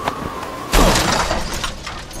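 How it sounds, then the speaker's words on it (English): An animated car smashes into something: a low rumble gives way to a sudden loud crash and bursting glass, and the debris rattles and settles for a moment afterward. "we completely smashed this car."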